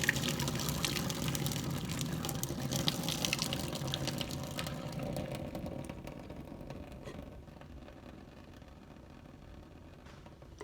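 Water from cooked macaroni pasta drains out of a pot past a lid held ajar, a steady loud gush that tapers and thins toward the end, with no talking.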